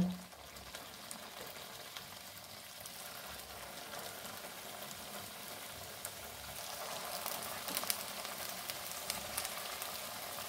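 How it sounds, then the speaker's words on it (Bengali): Chicken kachori fry in hot oil in a wok, a steady soft sizzle and crackle running throughout, fairly quiet and close, with no talking. "এবার এগুলোকে একটু সময় নিয়ে উল্টে পাল্টে ভাজবো।"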